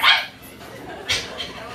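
A voice mimics a rude dog barking, giving a loud yapping bark followed by two smaller yips about a second later, with no other talk.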